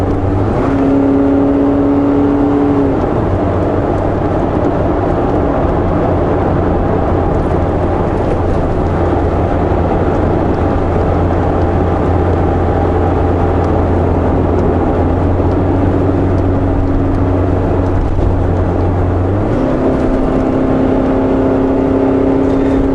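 A car on a road trip cruising down a road toward glaciers, with a continuous loud engine and road hum that holds steady, its tone shifting slightly as speed changes, with no voices.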